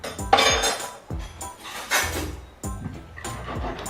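A spoon mixes pickled green bananas with salt in a container, giving repeated close clinks and scrapes in an uneven rhythm.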